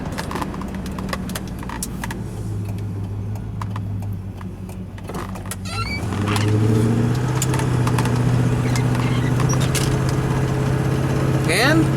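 A 1990 Range Rover County with a 3.9L V8 hums steadily at idle, a low, constant drone that swells and grows louder a little past the midpoint, then holds.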